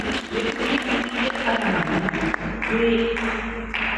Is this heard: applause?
yes